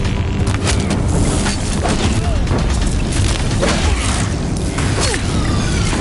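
Explosive shots from Deathbringers pound a bridge in a PS4 video game, a dense continuous barrage of booms and crashes with rumbling low end throughout, loud and close, with battle noise layered over it.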